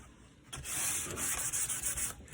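Sandpaper rubbed by hand over a rustic double tray, a quiet close scratchy sanding in quick repeated back-and-forth strokes.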